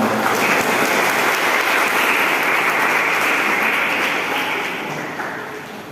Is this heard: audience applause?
yes